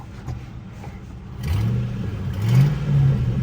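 A car engine idles, then revs up twice in quick succession, a deep throaty growl rising and falling close by.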